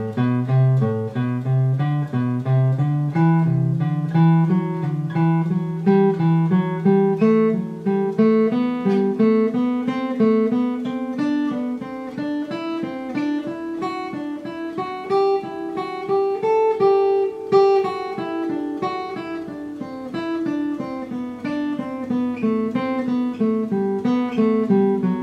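Guitar playing a steady sequential scale exercise built on CAGED shapes, running up and back down in even, continuous single notes for about 25 seconds, close and alone with no talking.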